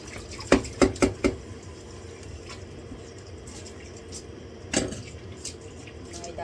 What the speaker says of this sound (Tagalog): Ngayon ako ay maghuhugas naman.